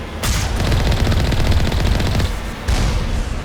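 Loud, continuous automatic gunfire in the Mass Effect video game, rapid rattling bursts aimed at turrets and snipers, with a brief pause before the firing resumes and no voices.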